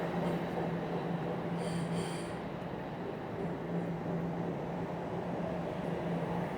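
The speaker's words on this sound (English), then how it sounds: "There goes a southbound train." Southbound subway train on Toronto's line running past steadily, a continuous loud rail rumble with faint high wheel squeal in brief bursts, no talk over it.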